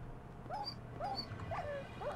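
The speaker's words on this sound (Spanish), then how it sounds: "¡Se te ha muerto el perro!" A dog whimpers in the Minecraft video game as it dies. The cries are short, high and close, about four in a row, each one sliding in pitch, with no talking.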